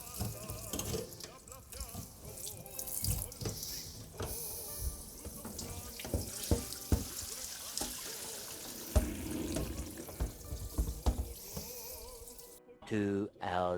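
Tap water running steadily to rinse and clean a machine, a continuous splashing rush at close range with clattering handling noises throughout, cutting off near the end.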